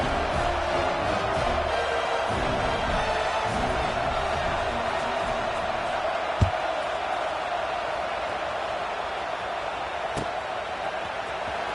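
A stadium crowd in the NCAA 26 college football video game gives a steady, muffled roar of massed voices, with one sharp thud partway through and no commentary over it.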